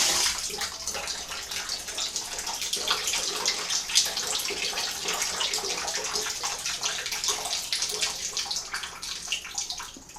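A bathtub fills from the tap in a farmhouse with iron water pipes, a continuous loud rushing and splashing of water pouring into the tub with no pause.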